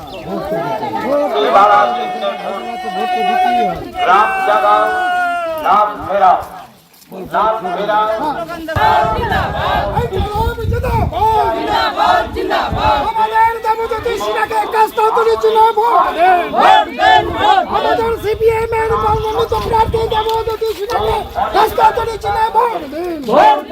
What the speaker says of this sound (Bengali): তার ঠিক পেছনে থাকা দলীয় নেতাকর্মী সমর্থকরা তার নামে জোর স্লোগান দেন